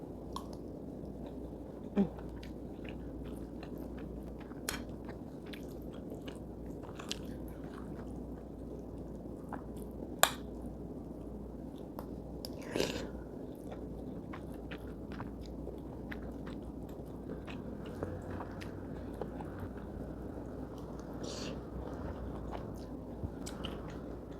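Someone eating a meal with egg, with soft close-up chewing, biting and squishy mouth sounds repeating quietly throughout, plus a few sharper crunchy clicks over a low, steady room hum.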